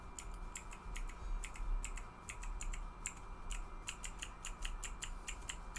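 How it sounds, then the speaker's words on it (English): A fidget toy with keyboard-style buttons is clicked over and over in quick, irregular bursts, crisp and close but quiet, over a low background hum. "I'm playing with a fidget toy if you hear it."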